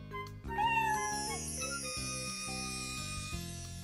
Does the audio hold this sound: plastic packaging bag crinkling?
no